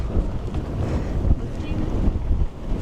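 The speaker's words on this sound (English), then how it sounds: "It is so windy right now." Strong wind buffets the microphone in steady, low rumbling gusts in the parking lot of BAPS Akshardham temple, Robbinsville, New Jersey, roaring continuously throughout, loud and close, with no clear voices.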